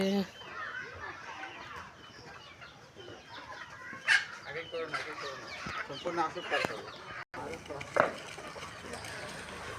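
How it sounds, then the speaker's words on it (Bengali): Free-range native chickens cluck and squawk in a village farmyard as feed is scattered, with a busy flock calling continuously at close range and a few sharper cries standing out; someone speaks over the clucking. "এবার নিচের মুরগিগুলোকে খাবার দেওয়া হয়েছে তারা ওই যে শুরু করছে"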